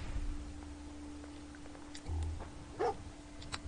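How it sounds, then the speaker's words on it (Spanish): A dog barks in the video game Fallout, a few short yelps and a whimpering call over a low steady game hum, fairly faint and set back in the mix. "Cállate, pinche perro."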